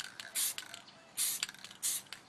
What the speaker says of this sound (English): And there's just less room for error when you spray it in small bursts.